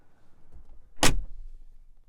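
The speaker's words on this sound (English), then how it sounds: "Closing up this door." Driver's door of a 2021 Mercedes-AMG G63 swinging shut with a single solid, heavy thud, close and clear against a quiet background.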